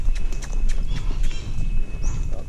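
A mare's hooves clip-clop in a quick, steady rhythm close by, mixed with rustling and light ambient noise.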